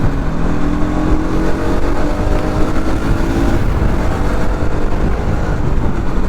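Bajaj Pulsar NS200 motorcycle riding fast on a highway, a steady loud engine drone with heavy wind rush and a rising tone that fades midway, continuous throughout with no voices.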